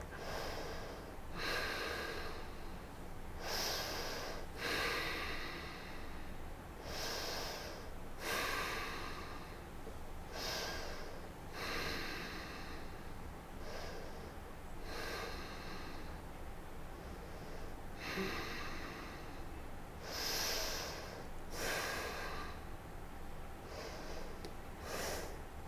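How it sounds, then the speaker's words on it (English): Deep cleansing breaths taken during a leg-strength yoga practice, repeated steadily for the whole stretch as breathy, snort-like exhales and inhales, some nasal and gasping, close and fairly quiet. "cleansing breath"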